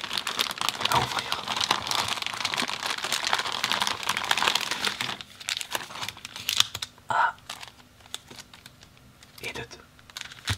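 Foil booster packs of WOW trading cards being torn and crinkled open up close, a steady rustling and ripping that thins into sparser crackles and snaps in the second half.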